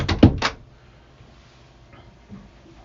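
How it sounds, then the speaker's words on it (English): A cabin door on a 2008 Cranchi Mediterranee 43 motor yacht swings shut near the saloon, a quick pair of solid knocks and a latch click close to the mic, then a quiet interior. "shut the door"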